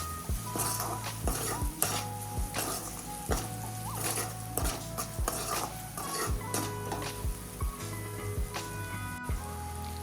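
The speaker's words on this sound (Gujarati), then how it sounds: "બધા મસાલાને સારી રીતે મિક્સ કરી લેશું" Turmeric, red chilli powder and coriander-cumin powder stirred through a tempering in a pan for vagharelo rotlo, a spoon scraping and clinking against the metal in steady repeated strokes over a soft sizzle, close and clear with no talking.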